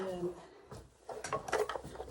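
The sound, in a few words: drawer of sewing threads being opened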